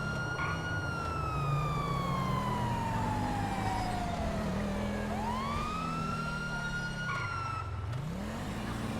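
A loud electronic emergency vehicle siren in a video game wails continuously, sweeping slowly down and back up in pitch, layered with a second lower siren tone and steady engine hum.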